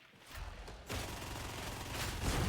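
Las gun fire in the video game Darktide, a steady, dense rapid volley of energy-weapon shots running loud and unbroken for the whole stretch after a quieter start.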